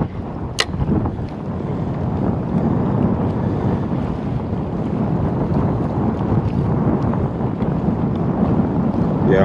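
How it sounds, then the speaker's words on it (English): Strong wind buffets the microphone continuously out at sea on a fishing boat, a loud steady rushing roar with waves and boat noise underneath, broken briefly by a sharp click early on. "it's extremely windy"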